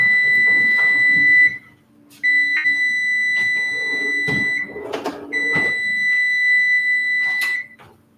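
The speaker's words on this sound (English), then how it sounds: "You're going to have a beeping in a moment or two." Loud, shrill electronic beeping in long sustained bursts, broken by a short pause and a few soft knocks, then resuming steadily.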